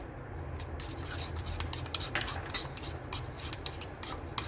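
A spoon steadily stirs and scrapes through a soy sauce and cornflour mixture in a bowl, a continuous close rubbing sound with occasional light clinks, no voices.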